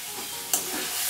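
Dry chilies and ginger-garlic paste hit a hot pan for a chicken curry, giving a steady close sizzle with a brief sharp spit partway through, with no voice over it.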